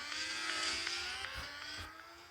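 Race-car engine sounds from the game Stickman Party, a steady rising whine with layered engine tones and a few short bursts, fairly faint.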